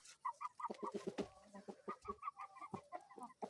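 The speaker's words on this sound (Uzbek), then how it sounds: "Xo'rozcha bu." A young cockerel clucks in quick, rhythmic bursts with a short crow-like call mixed in, faint and fairly close, with no talk.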